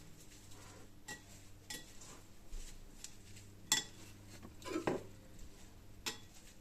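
A spoon clinks and scrapes against a dish while pepper and salt are stirred into a salad, giving a few sharp, close metallic chinks and soft scrapes with quiet pauses between them.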